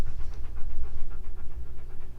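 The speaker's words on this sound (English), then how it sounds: "Sorry, dog interruption." A dog pants rapidly and steadily close by on a motor yacht, a rhythmic breathy huffing that continues throughout with no one speaking.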